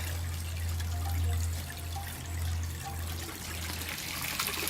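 Water from a pond pump in a winter pond trickles and flows steadily, with a low constant hum beneath the faint splashing and no voices.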